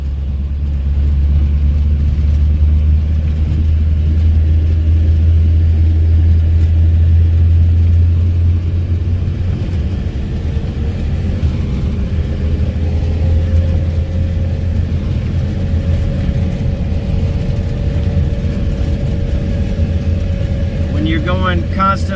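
A 1957 Chevrolet Bel Air engine idles with a loud, deep rumble close by, steady and thick at first, then easing slightly with a faint rising whine near the end.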